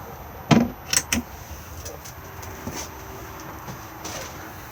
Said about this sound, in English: you can turn both of these and remove the red keys